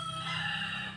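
Backyard chickens, moved to a shelter ahead of Typhoon Kristine, make a loud, near, brief burst of crowing and clucking lasting about a second, with no talking.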